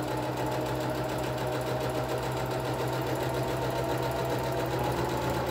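A Singer Talent sewing machine runs steadily, stitching ribbon onto the outer edge of a fabric mop bonnet with a constant, even mechanical whir and a low motor hum, close and unbroken throughout.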